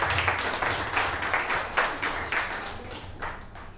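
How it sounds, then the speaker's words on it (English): An audience claps steadily for a presenter at a live-streamed tech demo event, a dense, continuous patter of many hands that holds fairly level for several seconds before easing slightly toward the end. "All right, round of applause for Mike."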